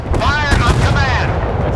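Warship guns boom in a naval combat game, the USS California firing in a heavy, continuous roar of blasts and rumbling explosions, loud and close throughout.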